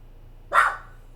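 A single abrupt dog bark rings out close by, brief and punchy, then fades into quiet room noise.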